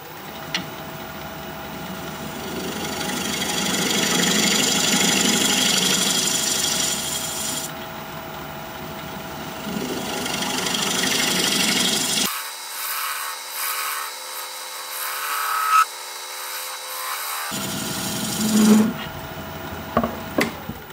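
A recess tool cuts a dovetail recess into a wooden pear blank on a lathe, giving a steady scraping, rasping hiss that swells and fades with each pass and ends in short scratchy bursts.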